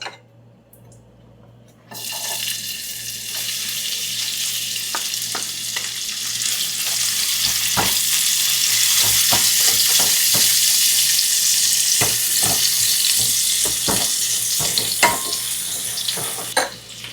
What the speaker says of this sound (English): On the same pan with the remainder oil, we're gonna add onion.